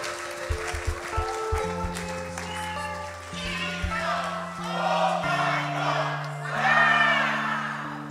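Church congregation clapping and cheering at a parish resurrection concert, rhythmic claps and shouts of praise rising over sustained keyboard chords, moderately distant with a lively crowd wash.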